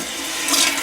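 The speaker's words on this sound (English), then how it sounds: "I love the sound of a toilet flush, man." A toilet flushes with a loud, close rush of water that swells toward the end of the brief moment, alone without talk.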